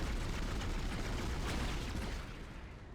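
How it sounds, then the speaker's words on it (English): A deep rumbling explosion in Dead Space rolls out as a continuous low roar that slowly fades, fairly quiet overall. "both of them died in the same explosion"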